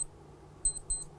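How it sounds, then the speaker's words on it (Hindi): An alarm clock rings indoors in short, shrill electronic bursts, a brief chirp followed by two close pulses, fairly faint over a quiet room. "ओहो, घंटी में अलार्म बज गया है"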